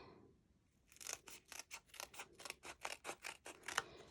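Scissors snip through card for a handmade Stampin' Up flower-die card: about ten crisp, close cuts in a quick, even rhythm after a brief quiet start.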